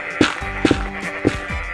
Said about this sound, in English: it's the bloody horn